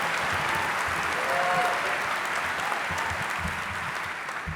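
A crowd at a Basketball Hall of Fame enshrinement speech breaks into sustained applause, a broad wash of clapping holding steady and easing slightly toward the end.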